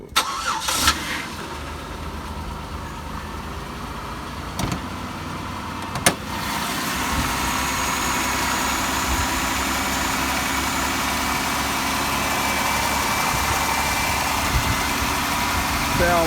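A Buick Rendezvous's 3800 V6 engine cranks and catches after a few seconds, then settles into a steady, moderately loud idle that continues to the end.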